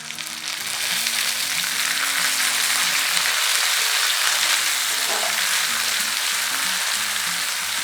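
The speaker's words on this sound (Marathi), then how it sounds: "टमाटर पण चांगलं भाजलं पाहिजे" Onion and tomato sizzle loudly in a hot pan while French beans curry is cooked, a steady dense frying hiss that runs throughout, alone and close.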